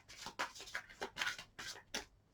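Tarot cards being shuffled by hand, soft papery riffles and slides in a quick uneven rhythm, close and fairly quiet with no talk.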